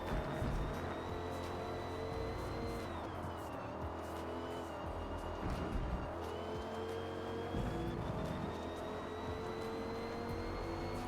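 A race car in Forza Motorsport run flat out at full throttle around the Kyalami circuit, its engine holding a steady high-pitched drone that rises and falls slightly through the gears over continuous road and tire noise.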